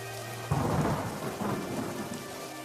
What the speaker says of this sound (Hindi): बारिश थी कि रुकने का नाम तक नहीं ले रही थी